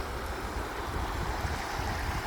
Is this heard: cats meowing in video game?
no